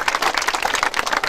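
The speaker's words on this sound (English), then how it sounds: "So give yourself a round of applause" Audience applause at the Aspire Ghana final, a dense, steady round of clapping from many hands filling the whole moment.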